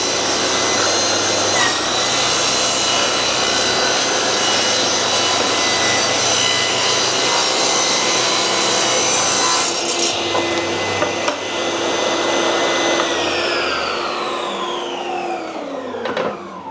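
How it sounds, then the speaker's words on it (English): An inverted track saw rips wood stock against a fence set to 50 mm, cutting rails and stiles for doors. It gives a loud, steady motor whine throughout, then winds down at the end. "it's an inverted track saw. So when I turn it on, okay, and put it up against the fence"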